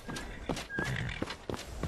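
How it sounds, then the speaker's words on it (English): A horse in the video game Skyrim, heard close by as a few snorting, whinnying calls mixed with soft hoof clops over a steady game background. "What are you doing over here, horse?"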